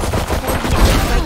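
Rapid gunfire from a gun shot while running in the Valorant video game, a dense continuous burst of loud shots filling the short moment without speech.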